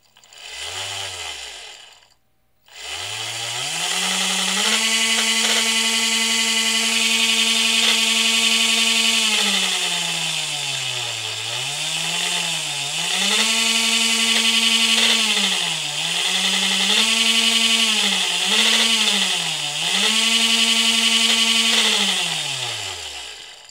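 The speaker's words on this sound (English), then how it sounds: "The controller is connected to the DC motor that I've removed from treadmill." A treadmill DC motor driven by an XY-1260 PWM speed controller whines loudly and steadily after a brief start, its pitch rising and dipping repeatedly as the speed is varied, with a strong electrical hum running throughout.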